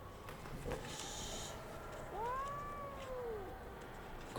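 A tabby cat gives one drawn-out rising and falling meow, clear and close against a soft ambient background.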